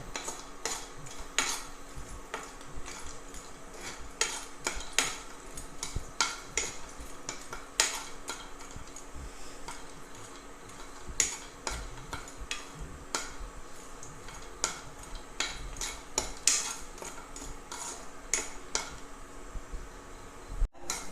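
Cashew nuts roast in hot ghee while a metal spoon stirs and taps the pan, making a continuous run of quick clinks and scrapes over a soft sizzle, close and steady for about twenty seconds.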